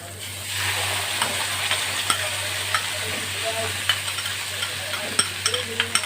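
Onion frying in a pan with freshly added poppy seed paste for bitter gourd posto, a steady close sizzle broken by repeated light scrapes and taps of stirring, with a low constant hum underneath.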